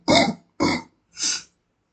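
A man coughs three times in quick succession, harsh, throaty bursts close to the microphone, with the last one softer, followed by silence and no speech.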